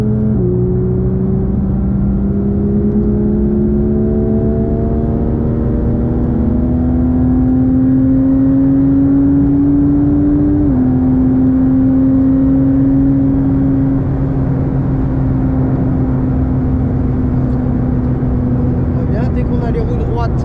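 A Porsche GT3 992.1 accelerates on the Spa circuit, its engine note climbing steadily through the gears with one brief shift, loud and continuous from inside the car under a constant roar.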